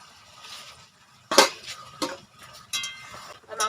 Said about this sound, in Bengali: এখন ঢাকনাটা তুলে নেব